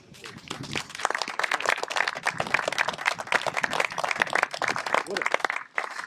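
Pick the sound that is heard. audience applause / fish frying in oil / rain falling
audience applause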